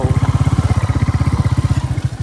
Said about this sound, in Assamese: আমি বাইকটো তালৈ লৈ যাওঁ নেকি